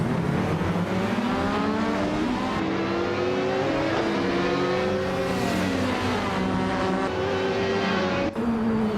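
Race cars in a video game roar continuously with rising and falling engine whines as several cars rev, shift and jostle close together, a dense steady motor drone throughout.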